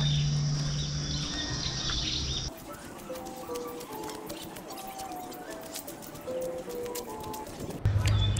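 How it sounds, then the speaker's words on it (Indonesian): Forest birds chirp and call among a dense buzzing of cicadas, with faint outdoor ambience and a brief spell of running water, at the Curug Putri Palutungan waterfall campground. "Burung-burung alami khas hutan dan suara tonggeret."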